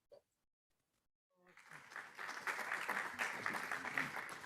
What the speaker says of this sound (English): So I hope you can listen to the applause here in the audience.